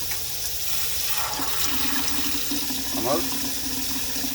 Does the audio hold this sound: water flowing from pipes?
yes